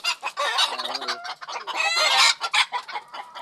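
Texas hens cluck loudly and squawk in quick, agitated bursts close by, a noisy scuffle of fighting fowl with no talking.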